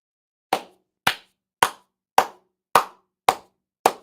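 Hands clap seven times in a slow, even rhythm, each clap sharp, close and alone against silence.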